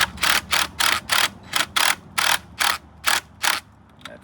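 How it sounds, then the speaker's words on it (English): Tightening a bolt on a pool light fixture with an adjustable wrench holding the bolt, giving about eleven evenly spaced, close ratcheting clicks in a steady rhythm, with no talking. "I'm just going to use an adjustable wrench to keep that bolt in place so it doesn't just keep spinning around"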